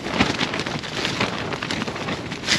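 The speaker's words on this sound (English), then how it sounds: "But it is very windy out there." Loud, blustery wind roars and buffets continuously on Ling Fell at a wild camp, with rushing gusts and rustling, no voices.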